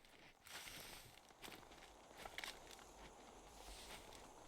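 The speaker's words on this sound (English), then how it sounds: "Footsteps everywhere." Footsteps in the hunting game TheHunter Call of the Wild crunch through undergrowth in a steady run of soft, close steps, faint and continuous, with rustling between them.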